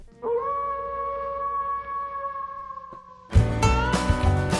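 A wolf howl sound effect on a radio show, one long sustained wavering howl that rings out alone before loud music crashes in.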